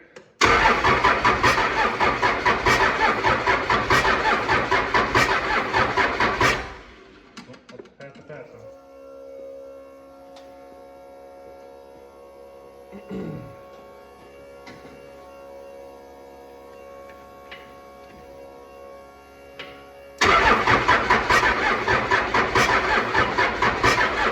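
A 6.7L 12-valve diesel engine cranks loudly for several seconds and then falls quiet with only faint background hum. It cranks again near the end, loud and rhythmic.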